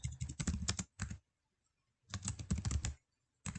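Someone types a prompt on a computer keyboard in rapid close bursts of keystrokes separated by brief silent pauses.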